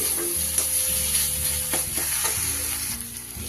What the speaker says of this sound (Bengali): আরও অল্প সময় আমি এটা ভালো করে কষিয়ে নিচ্ছি